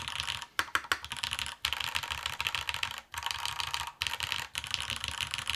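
Steady clacking keystrokes on a Soleil solar-powered mechanical keyboard, dense and continuous with brief pauses, heard close and fairly quiet with no voices.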